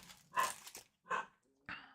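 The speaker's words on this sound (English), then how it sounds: "My dogs are going psycho this morning, as usual." Dogs bark indoors in three separate short bursts, moderately close, with quiet gaps between them.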